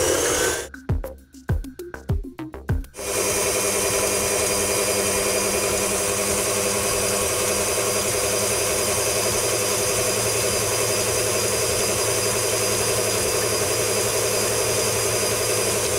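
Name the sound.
electric mixer whipping egg whites into meringue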